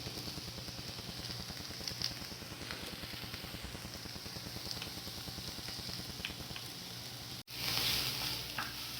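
Garlic sautéing in a pan while preparing a tripe dish: a steady, soft sizzle and crackle runs throughout, with faint stirring clicks and a brief louder clatter near the end.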